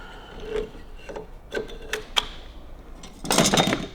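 A metal clutch plate is placed into a WLC/WLA motorcycle clutch: a few light metallic taps and clinks, then a brief louder rattling scrape as the plate slides into place.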